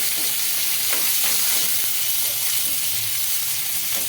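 Chopped tomato and green chillies cooking in oil for a peanut chutney give a steady, close sizzle and crackle that runs unbroken with no talking.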